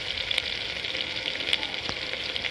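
Vegetables for vegetable khichuri sizzle steadily in a hot pan, a continuous close frying hiss with a few brief clinks and stirring scrapes, no voices.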